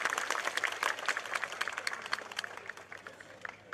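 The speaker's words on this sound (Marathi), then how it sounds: "जोरदार टाळ्या वाजवून स्वतःचं अभिनंदन करा" Clapping from a crowd at an outdoor political rally, dense and steady at moderate distance, slowly thinning toward the end with no talk over it.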